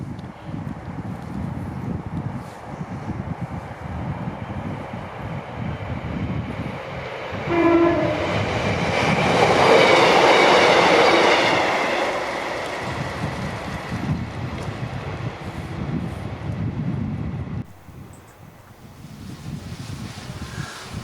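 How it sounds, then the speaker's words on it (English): A northbound train passes at line speed, its rumble swelling to a peak and then fading, with a brief horn-like tone and wind in the background. "The northbound train is due within a minute or so and should be able to run through"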